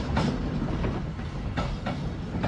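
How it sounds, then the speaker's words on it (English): A moving train rolls along with a bike rider aboard, a steady low rumble broken by periodic sharp clicks of the wheels over rail joints, close and continuous with no talk. "I ride my bike on this moving train."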